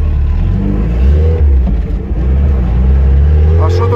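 An off-road car with a 1.7 engine rumbles loud and close, the low engine drone surging slightly as it revs. People talk over the noise.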